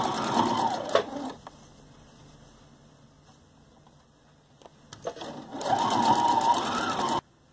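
A sewing machine stitches the ear of a handmade fabric toy dog, buzzing in two rapid runs separated by a quiet pause, fairly close and loud with no talk over it.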